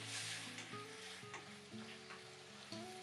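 Beef, peppers and onion stir-frying with sauce in a hot pan, a steady loud sizzle with stirring scrapes throughout, close up, with a melodic music track playing over it and no voices.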